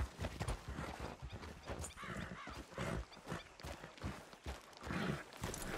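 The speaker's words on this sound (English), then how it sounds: "Damn horse, acting up on me of all the times." In the video game Red Dead Redemption 2, a horse acts up with quick clattering hoof steps and a brief whinny, fairly close and moderately loud, with little talk over it.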